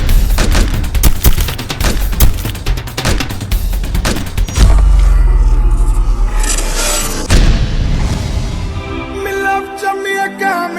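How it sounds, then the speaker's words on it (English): Video game gunfight against Jamaican Mafia gangsters on the street, rapid bursts of loud gunfire with heavy booming shots, then a pause with a low rumble before more scattered shots and fading echoes. "Shots fired at Church and Troy Avenue."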